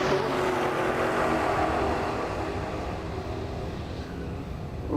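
Dodge Hellcat inching into the staging beams at a drag strip during a Summit Racing Midwest Drags event, a loud, rough V8 rumble that fades slightly, with no voices.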